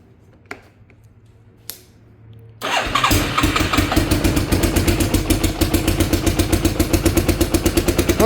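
A quad ATV with a rejetted carburetor (150 main jet, 45 pilot) cranks with a couple of clicks, then fires and settles into a loud, close, rapid and slightly rough idle.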